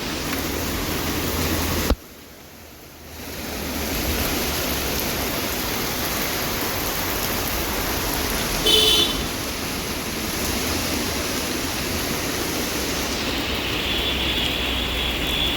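Heavy rain pours down outdoors in Salt Lake Sector 3 beside a stadium, a dense, loud, steady roar that dips briefly near the start before returning at full strength.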